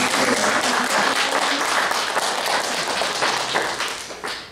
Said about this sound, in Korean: 하나님께 우리 영광의 박수 드리겠습니다